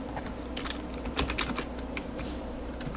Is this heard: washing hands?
no